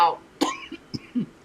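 Someone coughs a few times, short dry bursts at uneven intervals with small throaty catches between them, close and fairly quiet.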